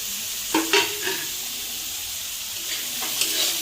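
Onion, tomato and garlic sizzle steadily in a hot wok, with a few sharp scrapes and clatters of stirring standing out over the continuous frying hiss.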